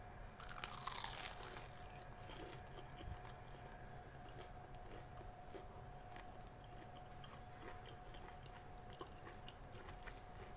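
Crispy fried chicken balls being bitten and chewed, a crunchy bite near the start followed by quiet, repeated chewing crunches, faint and close with no talking.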